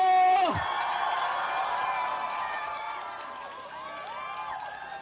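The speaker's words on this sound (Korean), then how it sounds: "크게 함성 질러주세요!" A rally crowd roars and whoops for Lee Jae-myung at a campaign stop for candidate Park Seong-jun in Jung-gu–Seongdong-gu, Seoul, a loud sustained wall of voices that swells at the start and carries on steadily.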